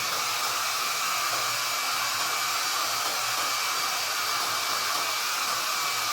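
A hair dryer blows steadily at close range over a watercolor cityscape painting, a constant loud rushing whoosh that holds unchanged for the whole stretch with no pauses.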